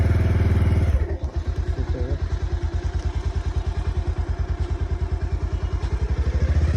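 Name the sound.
motorcycle riding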